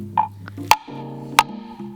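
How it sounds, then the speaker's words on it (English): Two sharp knocks of wood striking wood crack out loudly, spaced well apart, over a quiet background with faint tonal music. "This here's a wood knock. It's used to communicate with Bigfoot."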